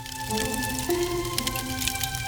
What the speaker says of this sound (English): A spinning, hanging grill sizzles with wurst and meats